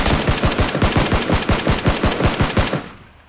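Automatic gunfire from PUBG played on Xbox One X: a loud, sustained burst of about a dozen rapid, evenly spaced shots lasting nearly three seconds, then cutting off into quiet.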